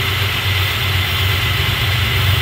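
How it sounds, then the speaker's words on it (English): A Chevrolet Beretta car engine runs steadily after a silicone sealant repair, a continuous low mechanical hum with a faint higher hiss throughout, no longer idling rough, with no talk. "you can hear the engine isn't idling no more"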